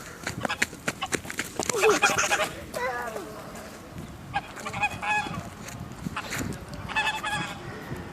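Geese honk repeatedly in loud, overlapping bursts close by, with bouts of cackling calls spread across the scene while a child and an adult talk and shout in between.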